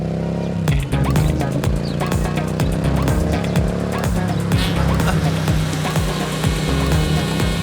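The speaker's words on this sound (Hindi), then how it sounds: "ड्राइवर, गाड़ी रोको 1 मिनट" A car on the move in a film scene, engine and road noise running steadily throughout, with sharp clatters and bumps over the drive and no clear talk.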